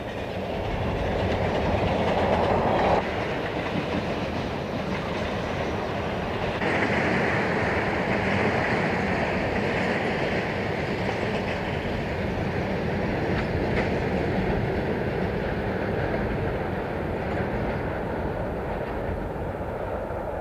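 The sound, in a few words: ATSF freight train climbing grade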